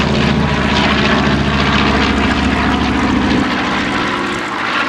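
A B-25J bomber, a twin-engine propeller warplane, roars loud and close as it flies past at an airshow, a steady engine drone holding throughout and easing slightly near the end.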